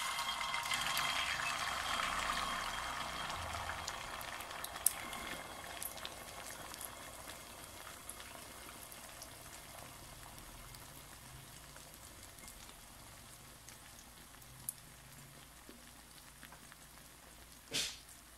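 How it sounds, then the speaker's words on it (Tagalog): Egg mixture poured into a hot, oiled pan for a moringa and longganisa omelette, frying with a loud, steady sizzle and crackle that is strongest at first, then settles to a softer, constant hiss with scattered pops and one sharp clatter near the end. "Ibuhos ang egg mixture sa kawaling may mantika."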